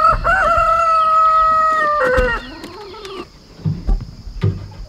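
At a backyard chicken coop in the morning, a rooster crows one long, loud, close call, followed by softer clucking from the hens of an egg-laying flock.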